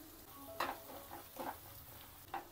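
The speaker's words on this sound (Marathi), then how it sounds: "थोडासा फ्राय करून घेते कांदा. आता ह्यात मी थोडीशी हळद ॲड करणार आहे." Onion fries in a pan with turmeric added, making a low, steady sizzle marked by a few soft stirring scrapes. It is quiet and close, with no talk.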